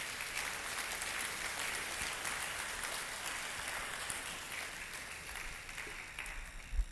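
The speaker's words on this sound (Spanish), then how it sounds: "Dale un aplauso al Señor si lo cree." Church congregation applauding together during a sermon, a steady wash of clapping that holds at an even level for several seconds without letting up.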